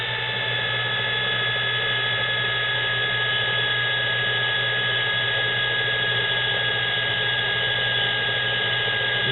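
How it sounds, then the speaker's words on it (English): A mini lathe cuts metal with a continuous, loud, high-pitched whine and steady motor hum, unbroken and close by with no talk. "This poor little mini lathe, if you try to take too much of a bite"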